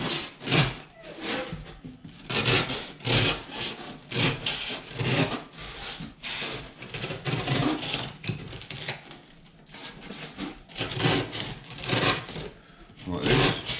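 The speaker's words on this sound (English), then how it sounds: "Use the steak knife. Take a bit more off." A steak knife scrapes and carves a homemade rock face wall panel, giving repeated rasping strokes in an irregular rhythm, close and moderately loud, with a short pause partway through.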